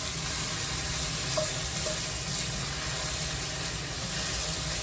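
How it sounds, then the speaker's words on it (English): Carrots and celery sizzle steadily in a hot pot as they are stirred, a continuous close frying hiss with soft scraping, no talking. "Cook until the vegetables are tender, stirring occasionally about 10 minutes."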